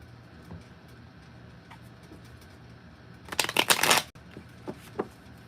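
A short burst of tarot cards being shuffled, a quick crisp riffle of close paper flicks, followed by a few soft taps as cards are pulled, set against a quiet background.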